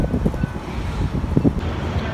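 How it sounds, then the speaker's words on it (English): A gust of wind buffets the microphone outdoors, low rumbling blustery noise rising and falling through the short moment with no talking. "There was a big gust of wind."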